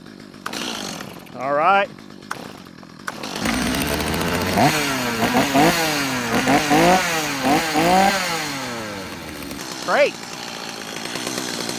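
Stihl MS250 chainsaw engine, choked from cold, catches and runs with repeated revving that rises and falls in quick surges, loud and close, after brief speech and handling noises at the start.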